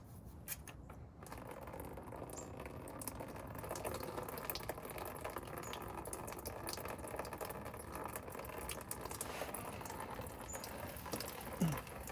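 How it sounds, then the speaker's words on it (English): Coolant draining from an opened car radiator drain plug into a catch pan, a steady continuous trickle and patter of liquid close by, with no talking. "I can just twist and all the coolant's gonna come out."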